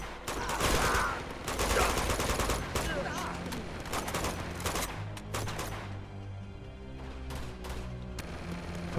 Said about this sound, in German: Von wo schießen die alle immer?